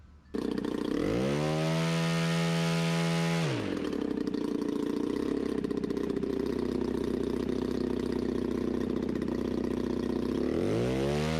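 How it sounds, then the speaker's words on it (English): A paramotor engine turning a 32-inch propeller starts up and climbs quickly to a loud, steady high-RPM buzzing roar, holds there for several seconds, and then begins to wind back down at the end. Close and loud, no voices. "I'm going to run it up, and we're going to see how much RPM it actually makes right now."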